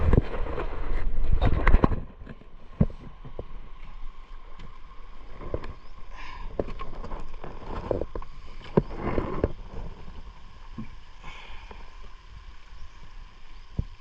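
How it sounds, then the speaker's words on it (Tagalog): A small boat's 20-horsepower single-piston engine drones steadily with wind buffeting the microphone, plus occasional knocks and splashy bursts, with no talking. "20 horsepower ang makina namin ayan oh."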